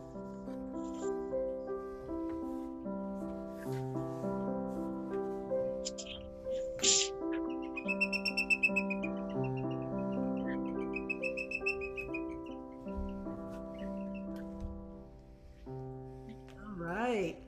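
Improvising musicians play sustained melodic tones for a peaceful park scene and imitate a bird flying by. High fluttering whistle-like passes come twice in the middle, and a quick rising sweep comes at the end.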